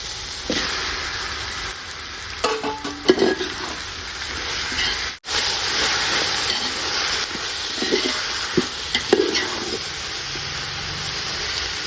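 Onions and tomato sauté in a pan for cumin samba biryani, giving a steady loud sizzle and hiss, with occasional stirring scrapes and a short break partway through.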